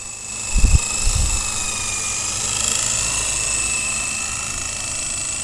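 A Blade CX4 remote-control helicopter flying outdoors, its thin high-pitched rotor and motor whine holding steady throughout, with a couple of low thumps early on.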